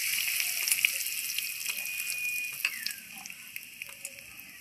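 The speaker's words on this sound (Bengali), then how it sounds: "পেস্ট করা মটরশুঁটিটা আমি এখন তেলের মধ্যে কষিয়ে নেব।" Mashed green pea paste cooks in oil with a pinch of asafoetida, making a soft, steady sizzle and bubbling with scattered small pops; no one speaks.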